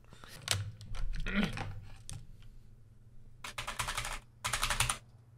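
Rapid bursts of clacking keystrokes on a mechanical keyboard with brown switches, close and loud, arriving in uneven clusters separated by brief pauses.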